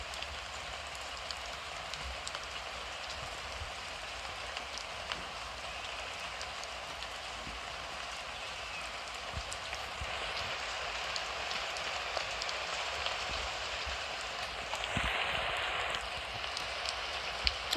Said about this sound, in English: this is a raining video